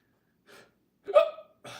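Three short, sharp hiccups from one person, the middle one loudest, spaced about half a second apart and close to the listener with silence in between.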